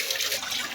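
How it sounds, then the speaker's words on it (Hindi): A brief rush of water splashes from a tap as hands are washed, steady and close with a bright hiss and no voices. "मैं धो लेती हूँ अपने हाथ।"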